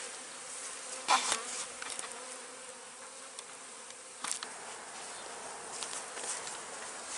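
Honey bees from a freshly installed package hive hum in a dense, continuous buzz, with occasional louder individual bees passing close by.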